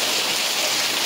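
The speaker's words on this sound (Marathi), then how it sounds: "आणि जोरदार पाऊस आहे" Heavy rain falls in a loud, dense, continuous rush of hissing water, close and steady through the brief moment with no voices.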